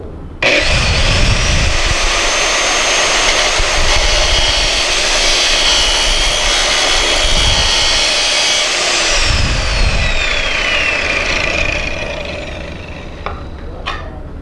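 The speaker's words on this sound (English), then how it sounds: "we need to also create or shore up what is called the land, or the flat portion of this bevel. And we can do that with one of our grinding wheel products." Grinding wheel working the flat land of a pipe bevel for pipeline welding, with a loud continuous abrasive whine and roar held for over ten seconds before tapering off.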